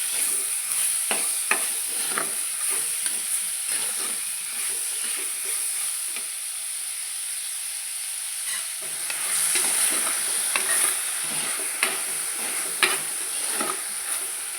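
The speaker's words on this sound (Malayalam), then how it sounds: "ചെമ്മീൻ ഇട്ട് നന്നായി ഒന്ന് ഇളക്കി കൊടുക്കാം." Raw prawns with onions frying in a pan, a continuous close sizzle with repeated scraping stirs and light utensil taps throughout, no voices.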